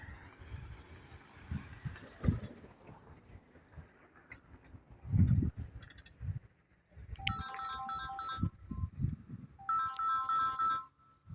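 A phone ringtone repeats in two clear bursts, a call being placed from a roadside spot by a canal with a bridge in need of repair, heard over faint outdoor background noise with no talking.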